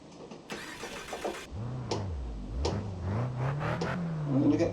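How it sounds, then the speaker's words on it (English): A Honda Civic Type R's engine cranks and fires up in the Project CARS 2 racing game on a snowy track, then settles into a low idle with small revs, close and steady. "So let's start the car up."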